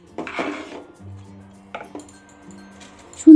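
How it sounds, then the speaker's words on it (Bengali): Boiling khichuri being stirred in a pot over a gas flame, with close metallic scrapes and clinks of a spoon against the pot, in irregular bursts separated by quieter bubbling stretches. "ফুটন্ত অবস্থায় খিচুড়িটা কিন্তু খুব ভালো করে নাড়াচাড়া করে নেব গ্যাসের ফ্লেমে বসিয়েই।"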